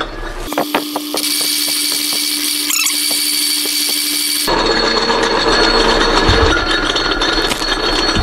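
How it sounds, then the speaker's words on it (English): A metal lathe runs in back gear while parting off a workpiece, a loud continuous motor whine and grinding cut with clicking early on that turns into a rougher, denser noise partway through, with no talk. "I've slowed the gear down, and I slowed the lathe down, and I've put it in back gear."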